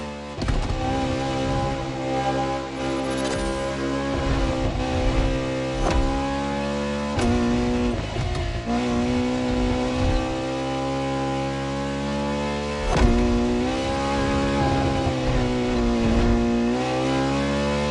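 A Ferrari V12 hybrid supercar in the racing game The Crew Motorfest drones loudly with a sustained, harmonic engine tone, rising and falling through revs and gear shifts with no break in the sound.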